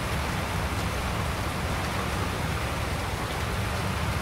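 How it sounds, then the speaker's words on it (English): Steady, even rain hissing down continuously on a farm, a dense wash of drops on surfaces with no other sounds. "Actually, the rain's good."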